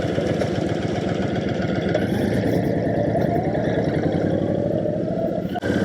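Honda Fury chopper motorcycle engine while riding: a steady, loud, close rumble with constant throttle, heading onto a highway, with no pauses.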